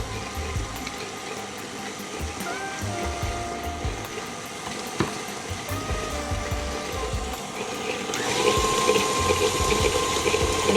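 An electric mixer beats pecan puff batter with vanilla extract, giving a steady close whirring drone that continues throughout and grows louder and brighter near the end.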